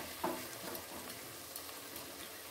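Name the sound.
cabbage with peanuts and poppy seeds frying in a wok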